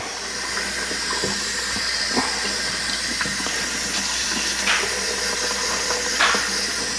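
Water runs steadily to rinse a dirty UNI foam air filter from a Kawasaki KRX side-by-side, a constant hissing flow broken by a few soft splashes and knocks.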